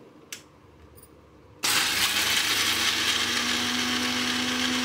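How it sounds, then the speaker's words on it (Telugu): After a quiet start with a couple of light clicks, a mixer grinder blending chutney for pongal switches on abruptly and runs loudly and steadily with a harsh, whirring roar. "ఇప్పుడు దీన్ని మిక్సీ పట్టుకోవాలి."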